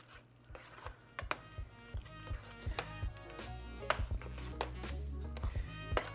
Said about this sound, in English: I'm just gonna go ahead and mix this on together